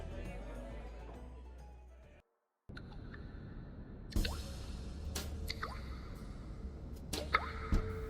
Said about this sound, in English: In the blackness, there is a slow dripping sound that drums Aislinn into consciousness.